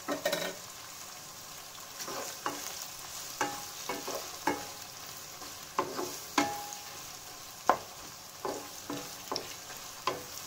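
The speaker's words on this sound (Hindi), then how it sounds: "प्याज को अच्छे से हम गोल्डन ब्राउन होने तक भून लेंगे।" Onions frying toward golden brown for egg biryani give a soft, distant sizzle, with a regular series of stirring scrapes and taps on the pan about once a second.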